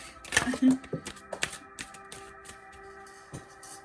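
Tarot cards are shuffled by hand up close, giving a quick run of sharp papery taps and clicks that thin out into softer, sparser flicks.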